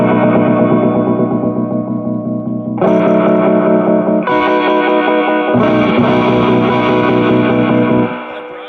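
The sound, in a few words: Ampeg Jupiter amp afterbeat on vibrato setting, guitar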